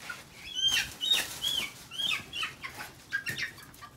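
A burst of rapid wing flapping from a chicken at a bird market, close by, with soft clucks and chirps mixed in.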